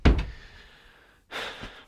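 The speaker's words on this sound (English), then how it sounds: "close the door." A studio door swings shut with a soft thud, followed after a brief pause by a second, breathier rustle or sweep against the frame, close by in a quiet room.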